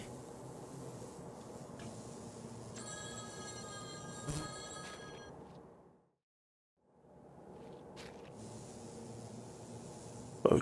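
An old-style telephone bell rings in a video game, a faint repeated metallic trill over a low ambient rumble, cutting to silence briefly before the background returns.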